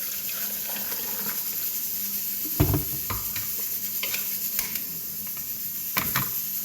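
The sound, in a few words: boiling lemon, ginger and turmeric cough remedy in a pot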